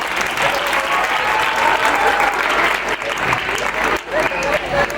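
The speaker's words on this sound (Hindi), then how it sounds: "एक बार जोर से ताली।" Audience applause at a school annual function and farewell program, a dense sustained round of clapping from a crowd, fairly loud and continuous for several seconds.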